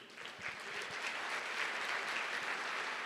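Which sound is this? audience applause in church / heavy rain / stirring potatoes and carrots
audience applause in church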